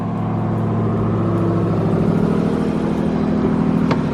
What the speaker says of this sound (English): That sounds pretty awesome. Just a little muffler delete.